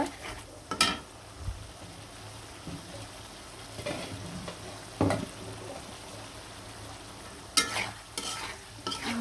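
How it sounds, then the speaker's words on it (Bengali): Radish stir-fried (kosha) in a pan before hilsa fish is added, a soft steady sizzle with occasional sharp scrapes and knocks of a spatula against the pan, fairly quiet and with no talking. "মূলাটা কিন্তু ভালোভাবে কষিয়ে নিলাম"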